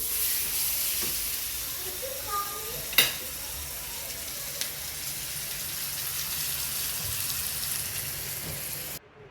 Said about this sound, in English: making a ribeye for my daughter